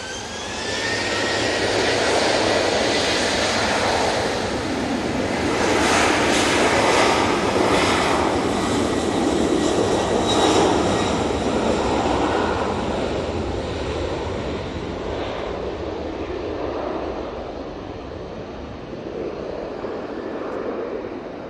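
A TUI airliner passes at Manchester Airport with a loud, broad jet roar that swells and holds steady, then slowly fades as it moves away, with no talking.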